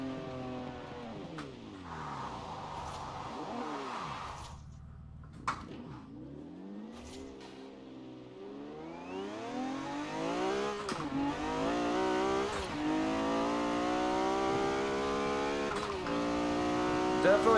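A Lamborghini Diablo GTR with a twin-turbo engine accelerates hard in Forza Horizon 4, its pitch climbing through several gears with short breaks at each shift, then wailing loud and high as it pushes toward top speed.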